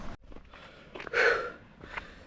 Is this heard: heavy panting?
yes